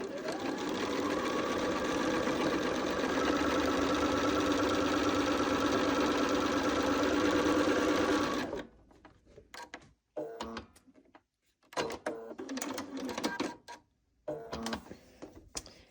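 A sewing machine stitches quilt block pieces with a fast, even whirring hum for about eight seconds, then stops, followed by quieter handling noises and brief bursts of stitching.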